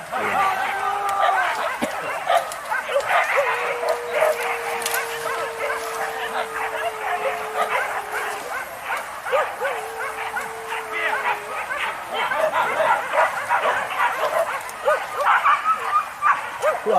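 Hunting dogs bark and yip repeatedly during a boar hunt in the countryside of Padang Pariaman, with a whining whimper threaded through, while people talk nearby over the commotion.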